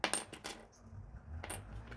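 Old Indian paise coins, including small 10, 25 and 50 paise pieces, clink sharply together as they are handled, several bright metallic taps close by, followed by quieter shuffling.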